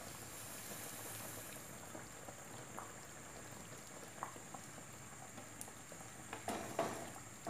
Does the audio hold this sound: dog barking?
no